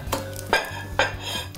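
Garlic mushrooms are served from a pan onto a plate: three crisp metallic clinks of utensils against cookware ring out close by, over a faint low sizzle.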